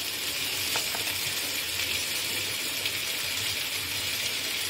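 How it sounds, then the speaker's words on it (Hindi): Chopped tomatoes frying in a ginger, garlic and green chilli paste, a steady, close, even sizzle throughout with faint stirring and no talk. "इसको मैं अच्छे से मैं भून लूंगी ताकि टमाटर सॉफ्ट हो जाए"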